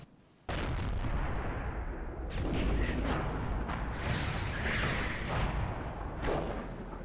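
Tank cannon shots in a tank video game: loud, sharp booms burst in one after another, each trailing into a rumbling echo before the next shot, with no talk over them.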